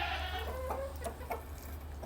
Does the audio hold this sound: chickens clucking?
yes